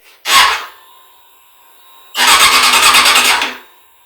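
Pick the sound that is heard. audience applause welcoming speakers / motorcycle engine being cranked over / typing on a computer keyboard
motorcycle engine being cranked over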